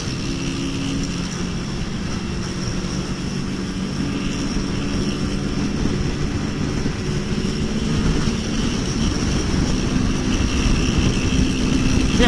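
A Kawasaki ER-6n motorcycle accelerates along the Marginal Tietê expressway in São Paulo, its engine roaring loudly and continuously with a rising rev and heavy wind rush throughout.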